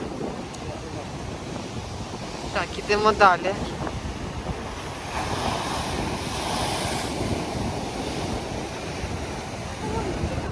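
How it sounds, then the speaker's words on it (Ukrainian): Stormy sea surf surges onto Langeron beach in Odesa, a continuous roar of waves mixed with strong wind buffeting the microphone, while a person speaks briefly near the start and gulls may be present. "Боже, як тут море розливається"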